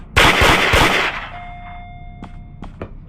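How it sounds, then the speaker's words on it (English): Rapid bursts of video game gunfire ring out loudly for about a second, then fade into a hum, followed by two sharp clanks. "I'm gonna get the gun."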